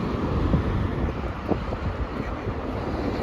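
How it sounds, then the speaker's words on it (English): Strong wind blows across a trainspotting bridge in Tampere, Finland, a loud, continuous rumbling buffet on the microphone with no breaks and no other clear sounds. "it's very windy now"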